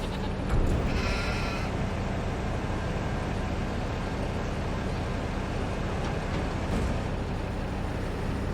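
Sheep in the Farming Simulator 25 game bleat once near the start over a constant loud engine-like drone of farm machinery, and the drone fills the rest of the clip.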